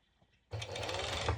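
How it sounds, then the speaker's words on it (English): A serger starts up after a quiet moment and runs at a fast, steady whir, stitching the seams of a sporty long-sleeved top close by. "I will be serging it directly, so I just place it like this over, and I'm going to start"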